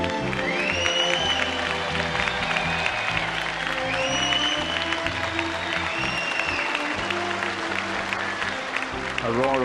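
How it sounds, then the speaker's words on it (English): A crowd at a Philippine beauty pageant applauds and cheers steadily, a dense wash of clapping under a voice talking and swelling music throughout. "A roar of approval from the crowd"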